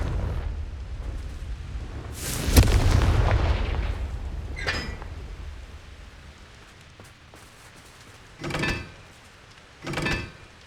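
In the Hogwarts Legacy game, a Confringo explosion spell goes off as a loud fiery blast with a rumbling tail, followed by a couple of shorter whooshing bursts.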